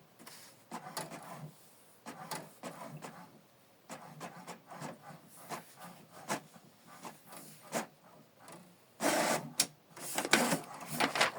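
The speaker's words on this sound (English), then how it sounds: "The second page is still printing." An HP Deskjet printer prints a page nearby, its mechanism whirring and clicking in repeated short bursts that grow louder and busier toward the end, with no voices.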